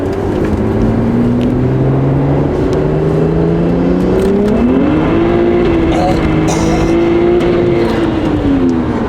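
A BMW 135i engine revs hard under full acceleration, its loud droning pitch climbing steadily up to the rev limiter, close and continuous inside the car.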